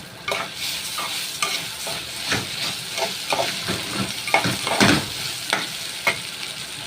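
Rice fries in a pan with a steady hiss, and a spoon stirs and scrapes it in repeated close strokes, with no speech.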